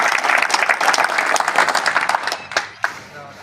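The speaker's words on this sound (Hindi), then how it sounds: "जोरदार तालियां इनके लिए, रोशन जी के लिए" Loud audience applause for a speaker at a National Safety Week event in Jamnagar, dense and close at first, then thinning into a few scattered final claps before fading out.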